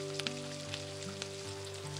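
Spinach puri deep-frying in hot oil gives a steady, close sizzle with scattered bright crackles and pops throughout, with no talking.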